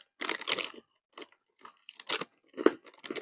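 Spicy praline pecans crunched between the teeth in several loud, close bursts of chewing separated by short pauses, with no talking.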